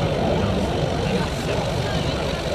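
An aircraft passes over a military base in Kramatorsk, a steady, loud broadband engine roar that fills the whole stretch without a break.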